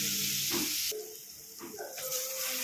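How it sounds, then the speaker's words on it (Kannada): Seasoning with salt fries in a pan for avalakki bath, a close hissing sizzle punctuated by a couple of stirring scrapes, the frying noise briefly dipping then returning. "ಉಪ್ಪು ರುಚಿಗೆ ತಕ್ಕಷ್ಟು ಉಪ್ಪು ಎಲ್ಲ ಫ್ರೈ ಮಾಡ್ಕೊಳ್ತಾ ಇದ್ದೀನಿ"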